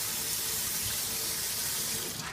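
Warm water runs steadily from a tap into a sink, a continuous close hiss and splash with no talk and no break.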